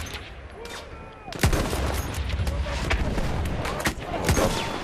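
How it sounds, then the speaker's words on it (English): Machine gun fire in the World War I shooter Battlefield 1: sustained rapid bursts of shots over loud battlefield noise, with heavy impacts and distant explosions. "I've got another machine gun."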